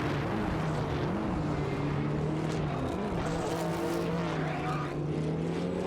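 Race cars in a racing game, a Chevrolet Camaro IMSA and a Ferrari F40 Competition, run neck and neck, producing a continuous loud engine drone with rising and falling revs and no gaps.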